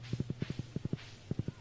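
A horse's hooves clip-clopping in Stardew Valley, a quick run of light, even hoofbeats in small clusters with brief pauses, close and clear.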